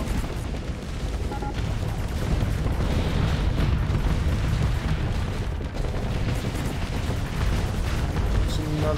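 Ships blowing up in a modded Starsector space battle, with heavy rumbling booms and bursts layered into a constant loud din of weapon fire that never lets up.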